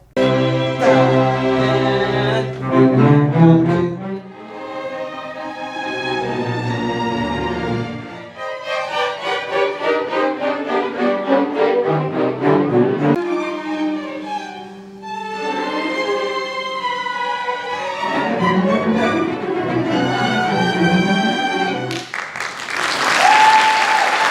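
A live school orchestra concert plays sustained, swelling passages with rich layered instruments, loud and full throughout, with a burst of applause at the very end.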